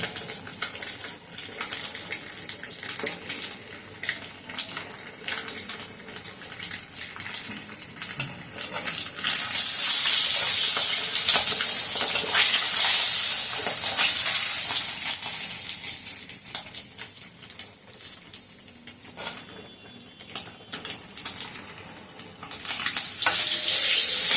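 Pieces of katla fish fry in hot oil with a continuous crackling sizzle that swells louder midway and then settles, heard close up without any talking.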